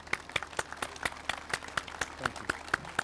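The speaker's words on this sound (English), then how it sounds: "Round of applause." An outdoor audience at a 9/11 memorial ceremony gives a round of applause, claps ringing out in a steady rhythm at moderate distance with no talk over them.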